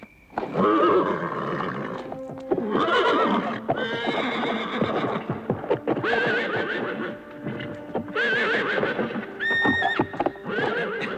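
Horses whinny and neigh repeatedly in a 1987 film scene, with shrill, agitated calls one after another over clip-clopping hooves and snorting.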